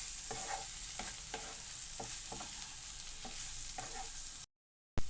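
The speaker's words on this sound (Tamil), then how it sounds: "நல்லா சேர்த்து மிக்ஸ் பண்ணி விடுங்க." Cabbage manchurian with coriander leaves being stirred in a pan, a steady sizzle of frying beneath repeated scraping strokes of the spoon, then a brief silence near the end.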